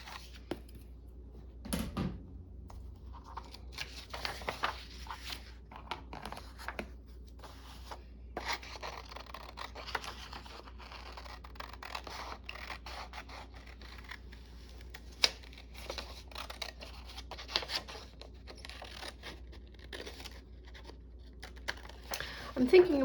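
Scissors cut out paper for a seed packet journal craft: quiet, close snips and scratchy rustles in an irregular series against a soft background hum.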